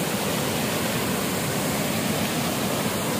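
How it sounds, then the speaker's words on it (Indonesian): Waterfall at Begoh Dam on a hiking trail, a dense, constant roar of rushing water filling the whole clip with no breaks, close and loud. "kita tengok air terjun guys"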